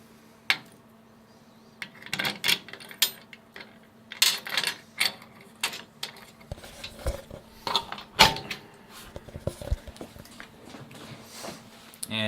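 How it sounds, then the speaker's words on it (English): Someone unlocks a computer case with its original keys and slides the door open: close metallic clicks, rattles and scrapes in irregular bursts over a faint steady hum, with no talking. "And the door just slides open like that."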